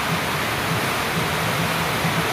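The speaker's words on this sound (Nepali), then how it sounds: "सुकुटीको सुनकोशी खोला हेर्नुहोस्" Sunkoshi river at Sukuti rushing past nearby, a steady, dense roar of flowing water with no break and no voices.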